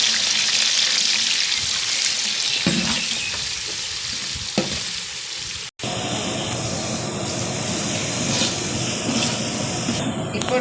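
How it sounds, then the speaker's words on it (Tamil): Onions and green chillies fry in hot oil with biryani masala for a vegetable biryani, a loud steady sizzle with occasional stirring scrapes, briefly cut off midway before the crackle resumes. "இப்பொழுது ஆனியன் நன்றாக வதங்கி கொண்டிருக்கிறது"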